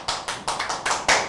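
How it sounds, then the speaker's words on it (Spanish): Audience at a Boca Chica magic show claps after a magician's egg trick, a short run of loud, uneven bursts that swell and drop in rapid succession. "Miren qué bien, ven el aplauso."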